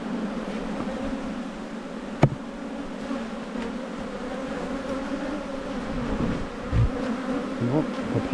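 Honey bees hum and buzz in a steady, dense drone from an opened hive in an Australian apiary, with one sharp click partway through and no talking.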